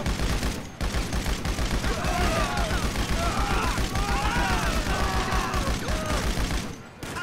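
Sustained, dense automatic gunfire in the GTA 5 video game, a continuous rattling barrage of shots that stays loud and close for several seconds with only a brief break near the start and end, with overlapping voices.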